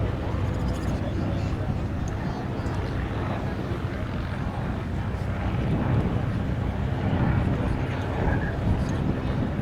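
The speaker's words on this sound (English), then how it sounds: "The PT26s, it's a Ranger inverted inline 6-cylinder, also approximately 200 horsepower" Fairchild PT-26 trainer with a Ranger inverted inline six-cylinder engine of about 200 horsepower at a WWII air show in Reading, Pennsylvania, a steady broad engine drone with loud outdoor rumble, heard from a distance under someone talking on the public address.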